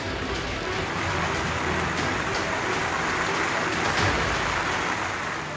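Heavy rain pours steadily over waterlogged, flooded streets in Uttar Pradesh, a dense, constant roar of falling water that holds even and loud throughout, with no voices.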